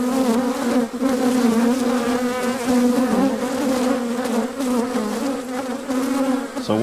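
Honey bees buzz loudly and continuously during an open hive inspection, a dense, steady drone with shifting pitch from many bees close by, with no talking.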